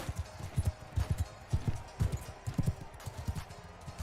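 Horse hooves in a medieval combat video game beat a quick, galloping clip-clop, with steady low thuds in pairs at a fast rhythm, close and moderately loud, and no talk.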